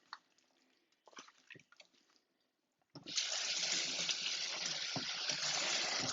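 Water squeezed from cooked eggplant drains into a kitchen sink: soft squelches and drips at first, then a steady close rush of running water.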